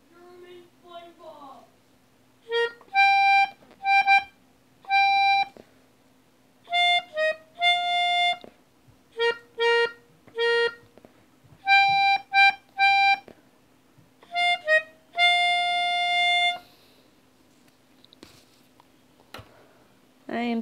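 Melodica playing the Your Lie in April tune, a sequence of reedy, clear held notes and short phrases with brief pauses between them, close and fairly loud, with no voices.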